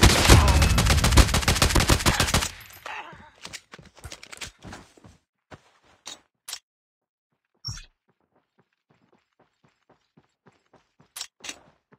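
Gunfire in the mobile shooter Call of Duty Mobile: a dense rapid burst of automatic shots up front, then scattered single cracks and short bursts trailing off into quieter gaps.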